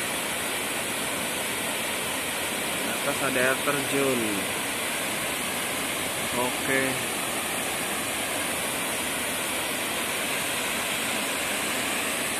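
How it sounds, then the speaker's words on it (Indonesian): Constant rushing water from a waterfall in the jungle fills the whole stretch evenly, with a voice briefly speaking over it twice. "Di atas ada air terjun."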